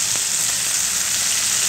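Chicken leg pieces fry in a pan for a Korean-style chicken dish, giving a steady, loud, dense sizzle that runs unbroken from start to finish with no voice over it.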